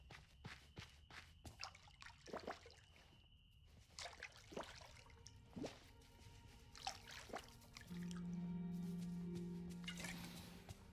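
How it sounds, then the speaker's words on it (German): Flowers being watered in the video game Disney Dreamlight Valley: soft dripping and trickling water game effects in short repeated bursts, ending in a steadier pour-like swell over faint background music. "Oh, ich muss meine Blümchen hier noch gießen."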